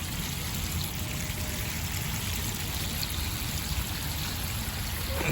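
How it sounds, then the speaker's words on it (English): Water squirting steadily from a garden irrigation line on a low-pressure system, a continuous close hiss and splash with no voices. "It squirts the water out there."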